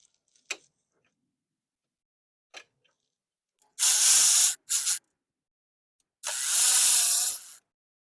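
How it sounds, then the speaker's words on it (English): Air ratchet or power tool spinning out the 10 mm bolts that hold the radiator fan on an Acura Integra, in three loud close bursts of hissing whir after a few faint clicks. "we take off 2 10 millimeter bolts that are attaching the fan to the radiator"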